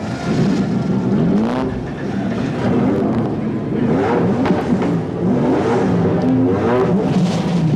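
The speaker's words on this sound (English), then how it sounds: "those V8s and Nissans and BMWs explode into life here on the starting grid at Mount Panorama" V8 touring cars alongside Nissans and BMWs fire up and rev on the starting grid at Mount Panorama, a loud, sustained roar of several engines rising and falling, with wind buffeting the microphone.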